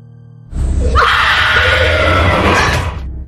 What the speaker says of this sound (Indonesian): tiba-tiba terdengar suara teriakan dari dalam lemari tersebut